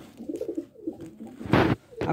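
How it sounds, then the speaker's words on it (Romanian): English homing pigeons, a pair kept at a loft, coo in soft low murmurs with a louder burst near the end, fairly close and with no talk over them. "Perechea aceea frumoasă de porumbei care eu cred că sunt voiajori englezi"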